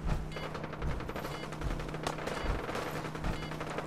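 Rapid gunfire crackles from a security force battling near Diamond City in Fallout 4, a dense continuous volley of shots with a few sharper bursts standing out, loud and without talk.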